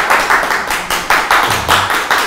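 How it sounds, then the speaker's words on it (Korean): Rhythmic, loud clapping from a small audience in a seminar room near Sindorim Station, close and in unison with evenly spaced bursts, like a group clapping along on request. "자, 박수 치세요."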